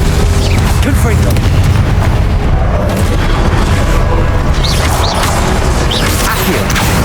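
A Confringo blasting spell explodes in the game Hogwarts Legacy, a loud booming crash amid a busy, dense mix of magical combat effects with sharp whooshes and impacts.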